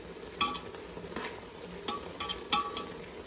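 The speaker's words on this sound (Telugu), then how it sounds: "ఒక 5 minutes అలా ఆమ్లెట్స్ని ఆ గ్రేవీలో కొంచెం బాయిల్ చేయనిస్తాం" Omelettes simmer in biryani gravy in a pan, giving a low steady bubbling with scattered soft pops and a few sharper clinks of a spoon against the vessel, moderately quiet throughout.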